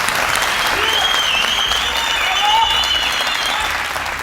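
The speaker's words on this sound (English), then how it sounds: "A round of applause, please." A studio audience applauds at a televised debate on tourism in South Africa, a dense, sustained wash of clapping that stays loud and even throughout, with a faint tonal line running over it.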